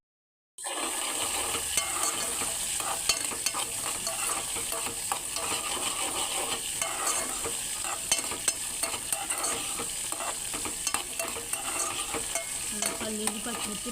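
Peanuts and green chillies fry in hot oil in a pan, giving a loud, continuous sizzle that runs unbroken throughout, with light stirring clatter scattered through it and no voices.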